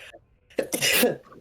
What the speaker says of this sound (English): I have to sneeze so bad